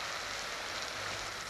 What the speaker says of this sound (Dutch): Het regent nog wel, maar daar wordt het lichter